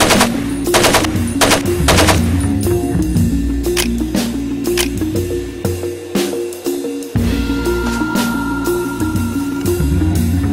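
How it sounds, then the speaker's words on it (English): Loud bursts of automatic gunfire in the Far Cry 2 video game, shooting up trees in a jungle level, with rapid repeated shots and a brief gap partway through before firing resumes under a steady game ambience. "Shoot up some of the trees."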